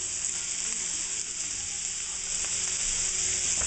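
Celery and sugar snap peas stir-frying in a hot pan, a steady, even sizzle at moderate level with faint scraping of stirring, no voices.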